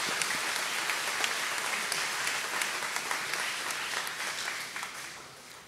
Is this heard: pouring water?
no